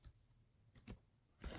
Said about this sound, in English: I'm just randomly typing